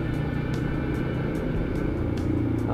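Heavy road traffic passed on a motorcycle, a continuous close engine rumble with a steady hum of surrounding vehicles and faint periodic ticking, no talk.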